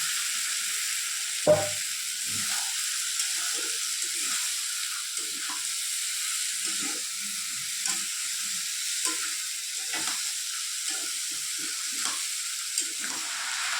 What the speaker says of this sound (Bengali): এবার সেদ্ধ করা মটর আর আলুটা দিয়ে দেবো। এখন একটু নাড়িয়ে চাড়িয়ে নেব।